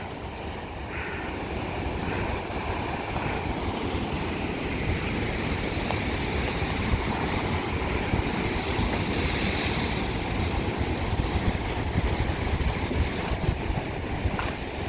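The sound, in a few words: ocean waves at Black Sand Beach, Maui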